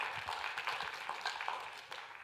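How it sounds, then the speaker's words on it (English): Conference audience of women clapping for themselves in a hall, a steady wash of many hands at moderate distance, fairly faint and continuous without talk over it. "Come on, give yourselves a clap, women."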